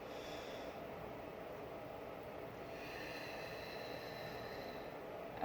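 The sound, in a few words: diaphragmatic breathing, inhaling through nose and exhaling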